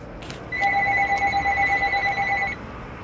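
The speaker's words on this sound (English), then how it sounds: "The phone" A telephone rings with a rapid, warbling electronic trill lasting about two seconds, loud and close in a room.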